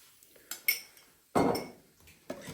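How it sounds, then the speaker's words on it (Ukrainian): A spoon stirs cheesecake batter in a bowl, giving sparse clinks and scrapes against the bowl with quiet gaps between them, close and fairly faint. "Тепер все це гарно перемішую ще раз"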